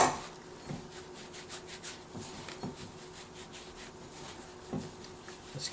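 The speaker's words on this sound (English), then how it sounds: "I'm just rubbing it between my hands" Flour and eggs rubbed together between bare hands while making homemade pasta dough from scratch, a soft, close, continuous dry scraping and rasping with a few brief louder scuffs, with no talking.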